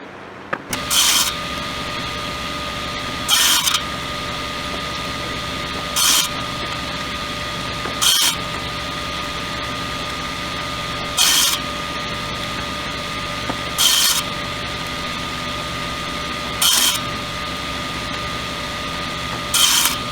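A saw blade cutting parts of a lightweight concrete cone: a steady mechanical running hum with about seven loud bursts of rasping cutting, evenly spaced every few seconds, close and alone without talk.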